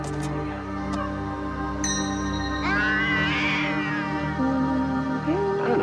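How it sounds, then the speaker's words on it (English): A cartoon cat meows and caterwauls loudly in drawn-out, wavering yowls that rise and bend in pitch, set against a busy, music-like background with no clear talk. "Hold on to that cat good and tight now, Larry."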